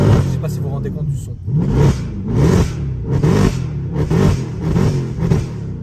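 A car engine revs repeatedly in loud, rhythmic bursts, each rising and falling, close by, with someone talking over it.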